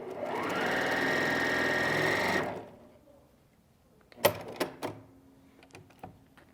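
A Janome HD9 sewing machine runs a steady, fast stitching whir for about two seconds, then stops, followed by a few sharp clicks and light handling sounds up close.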